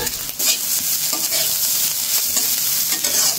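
Fish stir-fried in a pan gives a bright, steady sizzle with stirring scrapes, close and continuous, with no voices.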